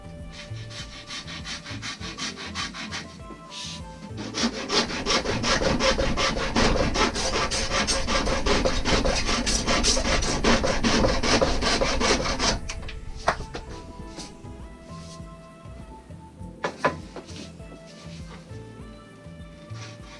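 A hand saw cuts off the ends of wooden laminated longbow limbs in a workshop, a steady rasping stroke rhythm that swells loudest in the middle, then slows into lighter, uneven strokes and scraping near the end.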